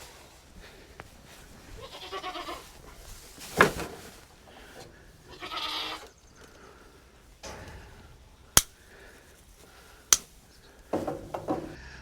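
Billy goats on a small farm bleat several times at hay feeding, scattered calls a few seconds apart at moderate distance, mixed with sharp clicks and clatter.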